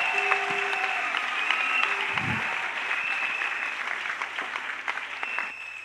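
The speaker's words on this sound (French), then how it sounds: "Est-ce que nous pouvons acclamer très fortement le Seigneur?" A church congregation applauds, producing a steady, sustained wash of many hands clapping together with a few faint voices mixed in.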